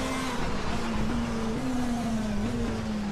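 A front-wheel-drive Citroen WTCC race car in RaceRoom at the Macau circuit holds a steady, droning engine note at high speed, the pitch wavering slightly, continuous and close with no voices.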